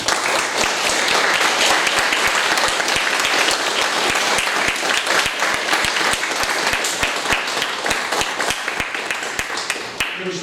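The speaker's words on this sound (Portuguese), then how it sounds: "uma salva de palmas para o nosso amigo aqui" A loud, dense round of audience applause at an academic lecture seminar, sustained clapping from many hands that fades slightly toward the end.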